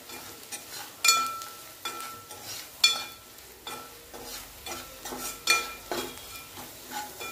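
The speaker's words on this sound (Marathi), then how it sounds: "आता थोडेसे मसाले आपण तेलामध्ये भाजून घेऊया." Spices roast in oil for a restaurant-style paneer cashew dish, a low sizzle punctuated by repeated scraping stirs and clinks of a spoon against the pan at an irregular pace, close and moderately loud.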